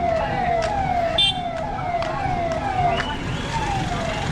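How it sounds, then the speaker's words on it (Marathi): A police car siren wails with a steady, rapidly repeating rising and falling tone against street and traffic noise during a temple visit. "हे त्यांच्या पार्टीमध्ये पोलिसांची गाडी"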